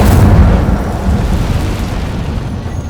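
A loud burst of the Incendio fire spell in Hogwarts Legacy, a heavy fiery whoosh that hits at once and rumbles on, slowly fading.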